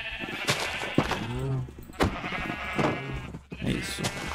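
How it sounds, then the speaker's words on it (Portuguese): Sheep in the Minecraft video game bleat several times in a row, clear, wavering calls spaced about a second apart, alone without talk. "Só que as ovelhas, elas nos atrapalham bastante a fazer o nosso trabalho."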